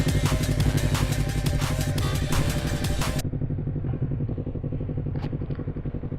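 Yamaha MT-25 motorcycle engine running steadily on a long-distance road ride, a loud continuous throbbing drone with rattling clatter, joined by a brief broadband wind or road roar that cuts off partway through.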